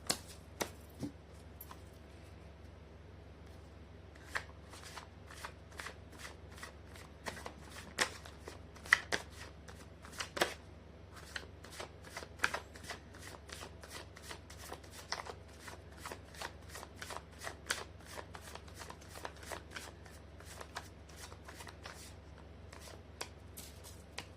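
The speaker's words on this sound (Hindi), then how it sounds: "कर लेती हूँ कार्ड की शफलिंग" Tarot cards being shuffled by hand in a steady run of quick, crisp flicks and riffles, close and fairly quiet, continuing without pause and with no talking.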